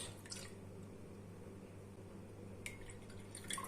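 Faint drips of lemon juice squeezed into a soup sauce in a home kitchen, soft and sparse.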